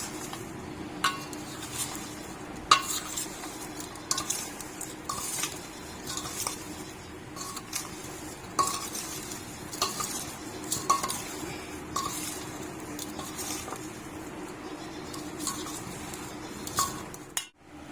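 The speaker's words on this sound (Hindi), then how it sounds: "अच्छे से हम मिक्स कर लेंगे अचार को इस तरह से।" Mango pickle being mixed with spices, turmeric and tamarind in a metal vessel: repeated spoon scrapes and light clinks in an irregular rhythm, close and moderately quiet, with no voices.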